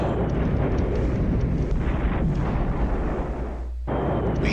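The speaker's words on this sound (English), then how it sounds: "it's cleared up, so I call for airstrikes." Airstrike explosions in a World War strategy video game, a dense, roaring rumble of blasts blending into continuous heavy noise that cuts off briefly and then resumes.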